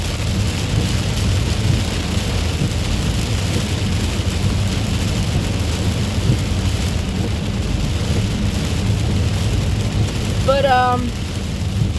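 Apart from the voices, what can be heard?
heavy rain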